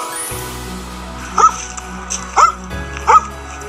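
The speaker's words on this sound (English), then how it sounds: "Dog sound bark." A dog gives three short, separate barks at a steady pace, near and fairly loud, over a quiet low hum with no talk.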